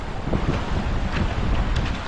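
Steady wind buffeting the microphone on an exposed mountain hike near a cloud-shrouded peak, a continuous low rumbling roar with gusty swells and no voices.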